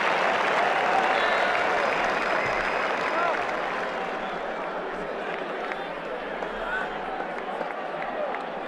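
Steady crowd applause and cheering from a stadium in the Brian Lara 07 cricket video game, India versus New Zealand, a dense continuous roar that eases slightly toward the end.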